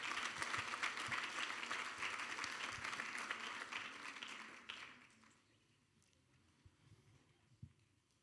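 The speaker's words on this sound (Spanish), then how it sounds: "Den un aplauso al Señor." A church congregation applauds during a sermon, a full, steady roar of clapping that thins and dies away about five seconds in, leaving a quiet room with a few scattered knocks.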